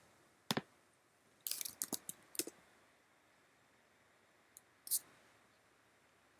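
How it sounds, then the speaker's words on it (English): Code being typed on a computer keyboard: scattered sharp key clicks in a short cluster, then a pause and a couple of later taps, quiet and close with no talk. "And let's go type in this code."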